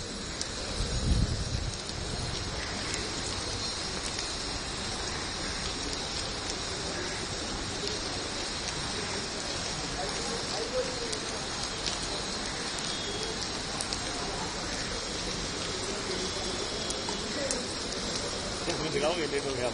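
Steady rain pattering continuously on surfaces at the Delhi High Court, with a faint voice briefly audible early on.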